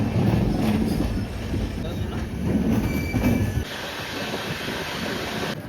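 A train at Jammu Tawi station, the Andaman Express from Shri Mata Vaishno Devi Katra to Chennai, rumbles and rattles with a faint wheel squeal, then drops abruptly to a quieter hum, with voices faintly under it.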